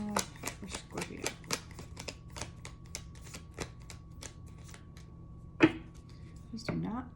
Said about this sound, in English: These do not want to shuffle sometimes.